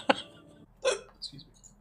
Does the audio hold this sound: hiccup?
yes